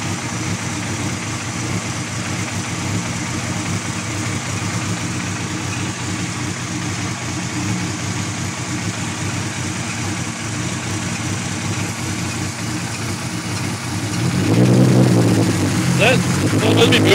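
A Toyota Supra GT47-80 idling: a steady, fairly loud engine drone holds throughout, then swells near the end. No clear start-up crank is picked out, and voices can be heard around the idle.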